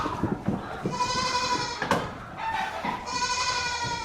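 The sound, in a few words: goats bleating in a pen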